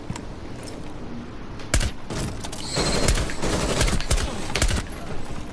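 Gunfire in Rainbow Six Siege on PS4: a series of sharp, close shots in irregular bursts over background game noise, with a louder cluster near the end.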